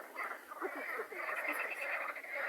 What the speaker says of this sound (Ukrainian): Жаби устроїли переклічку.